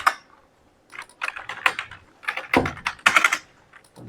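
Typing on a computer keyboard while drafting in AutoCAD: quick clusters of close, crisp key clicks, with short pauses between bursts.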